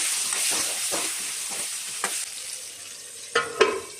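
Sliced onions with a little turmeric and salt sizzle and fry in oil in a pan, stirred at intervals with soft scraping strokes and a couple of sharper clatters near the end; no talking.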